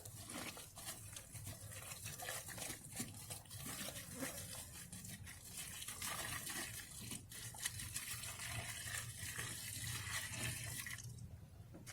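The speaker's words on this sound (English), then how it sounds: "add in some water" Water pours steadily and splashes into a compost bucket of chopped scraps for several seconds, close and continuous with a hissing, gurgling texture.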